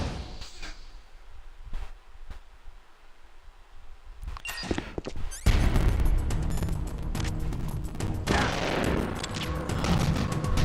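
Dense gunfire and explosive bursts in the video game Metal Gear Solid: The Twin Snakes, starting quietly with a few sharp reports, then erupting around halfway into loud, continuous volleys that stay up close to the end.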